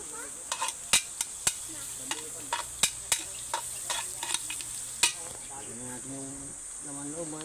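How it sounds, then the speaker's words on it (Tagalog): Onion and garlic sautéing in a pan outdoors, with a steady sizzle, scraping stirs and sharp spatula knocks on the pan, and a high insect drone running throughout. A voice speaks briefly near the end. "Nagigisa natin."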